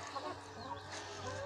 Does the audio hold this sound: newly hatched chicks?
yes